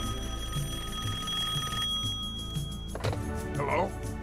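In the Serious Sam video game, a phone booth telephone rings with a steady repeating bell over background game music, with a voice speaking over it near the end.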